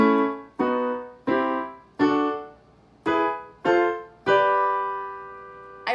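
Piano chords from a major scale, played without the sustain pedal: seven struck chords in an even sequence. Each decays quickly and is cut short before the next, except the last, which rings longer. Clear and close, with no talking.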